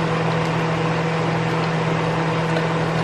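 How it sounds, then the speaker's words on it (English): An electric fan runs in a home kitchen, giving a loud, steady whir with a constant low hum that holds evenly throughout, with no speech. "Sorry about the noise. I have my fan on in here."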